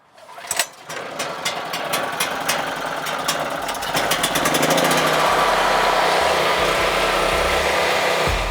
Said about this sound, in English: it's that easy to get your new generator started